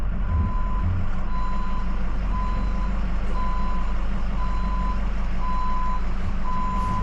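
Regular backup beeps sound from a Ford 6.0 pickup reversing a trailer over a curb, evenly spaced tones over a loud, steady diesel engine rumble, close by.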